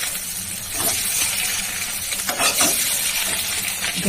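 Eggs sizzle in hot oil with a steady crackling hiss, broken by a few scraping stirs of a utensil in the pan.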